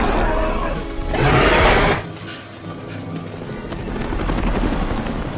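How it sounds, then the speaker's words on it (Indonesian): A military helicopter in a Jurassic World film scene with the Indominus Rex, its loud, steady rotor roar filling the clip with a brief surge and a thud partway through. "Di saat yang sama, Mas Rani dan para tentara di helikopter melihat Indominus Rex dan langsung menembakinya."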